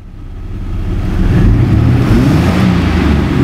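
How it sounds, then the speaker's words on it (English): A 2000 Chevy Blazer engine revs up as the throttle opens, rising from a low idle to a loud, sustained growl that holds steady near the microphone, with no talking. "So I'm going to open the throttle up"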